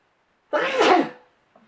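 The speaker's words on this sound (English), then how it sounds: "I'm going to sneeze." A single loud, close sneeze bursts out and fades within about half a second, followed by a faint short sniff.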